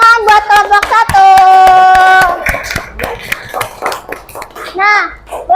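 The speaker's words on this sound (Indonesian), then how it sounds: "boleh kita kasih tepuk tangan buat kelompok 1." Fourth-grade schoolchildren in an Indonesian elementary classroom clap for a group of classmates, a short burst of dense hand claps mixed with children's chanting and voices, then chatter as the clapping fades.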